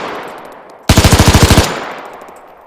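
An MG34 machine gun mounted on a WW2 wagon in the Arma 3 game fires one rapid burst of about ten evenly spaced, loud, sharp shots, with quieter ambient game noise before and after.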